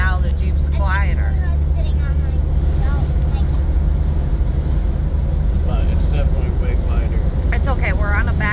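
A Jeep with tape patching a hole in its exhaust pipe drives along a back road, a steady low engine and road rumble running throughout under people talking inside.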